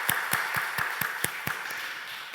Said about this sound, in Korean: 우리 집사님 한번 박수 한번 해주십시다